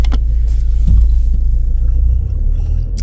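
A car on a battery that may not hold its charge rolls steadily down the road, heard from inside the cabin as a constant low rumble and road noise for the whole stretch, with no talking.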